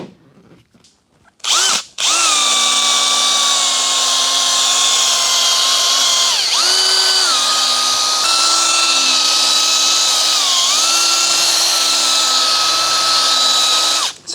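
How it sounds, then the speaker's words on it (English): A power drill fitted with an arbor buffs car paint using Freckler Super Fast 360 compound: a loud, steady high-pitched whine that briefly starts and stops, then runs continuously, dipping slightly in pitch twice as pressure changes. "now I'm going to buff up the paint with the Freckler Super Fast 360 compound"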